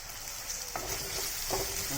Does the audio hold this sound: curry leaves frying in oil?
yes